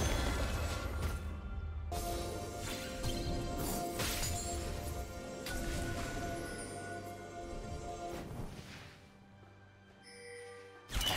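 A turret is destroyed in a League of Legends mid-lane match, heard as a couple of quiet crashing impacts over soft in-game music and ambience, ending in a sharper hit.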